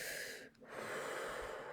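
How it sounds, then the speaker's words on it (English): A single deep breath taken as a chest-breathing demonstration, a close, soft rushing inhale with a brief pause partway through before the airflow resumes, with no speech. "So that means like chest breathing."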